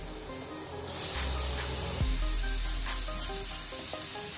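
Potatoes and masala fry in oil with a steady, dense sizzle and hiss that stays close and fairly loud throughout, with no talking.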